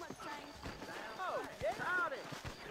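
Horse hooves clip-clop at a steady trot in Red Dead Redemption, moderately close, mixed with whinny-like tonal sounds and a voice in the background.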